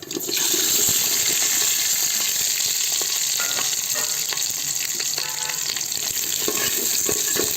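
Onions, garlic, green chilli and cumin fry in a pan, a loud continuous sizzle with bright crackling and occasional scrapes of stirring, steady from start to finish, with no voices.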